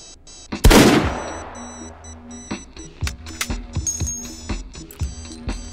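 A single loud gunshot from a single-shot pistol in the virtual reality shooter H3VR, a sharp close blast with a short decaying tail, followed by light mechanical clicks and handling taps.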